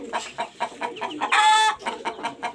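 A rooster and his hens cluck steadily nearby in short repeated calls, broken midway by a louder, drawn-out squawk before the clucking resumes.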